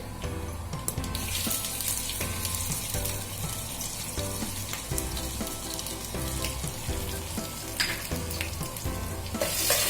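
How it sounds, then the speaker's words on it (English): Shahi jeera (black cumin) and chopped ginger fry in oil for a Kashmiri pulao, giving a steady, dense sizzle that carries on without a break, with no talking. "I'm going to let it fry up in the oil"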